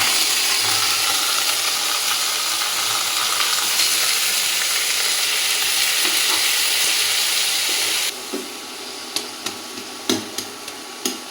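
Shak greens fry in a pan with a loud, continuous sizzle. It drops in level partway through, and a few sharp clinks of stirring follow.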